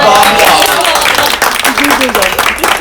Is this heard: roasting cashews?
no